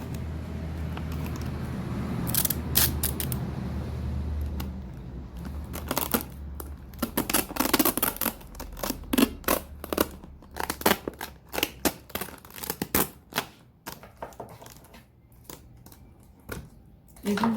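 Sticky tape is pulled and pressed on to close a plastic bottle for a mini greenhouse, with repeated close crackling rips and taps in irregular bursts.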